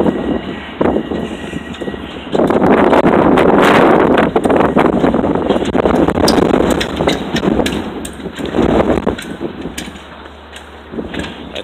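Strong wind roars across the microphone in broad, rumbling gusts during a high wind event, surging loud in the middle and easing somewhat toward the end.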